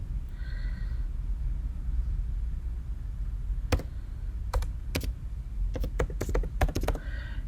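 A computer keyboard is typed on while working in an Excel spreadsheet. After a quiet stretch, sharp isolated key taps come one by one, then a faster cluster of clicks. They sound close against low room noise.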